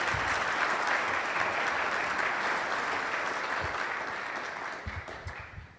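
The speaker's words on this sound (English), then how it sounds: "So why don't we give the panel a round of applause." A conference audience applauds a project-delivery panel with sustained, dense clapping that holds steady for several seconds before thinning out near the end.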